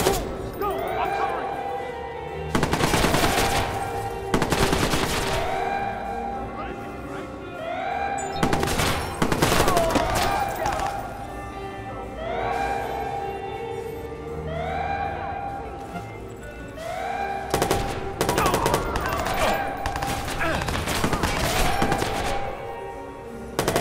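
Repeated bursts of gunfire in the video game Watch Dogs, loud clusters of shots recurring every few seconds over a steady game background, with someone talking over the action.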